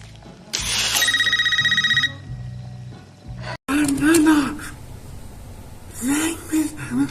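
A home telephone rings in the film Scream 5, a bright, rapid electronic trill lasting about a second and a half, followed by people talking.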